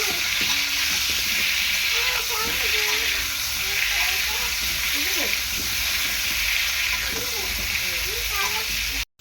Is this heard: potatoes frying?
yes